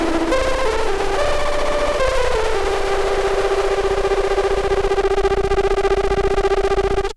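Liven XFM synthesizer switched to a sine wave, a steady sustained tone that glides between a few pitches early on, then holds one smooth note, loud and alone, until an abrupt cutoff.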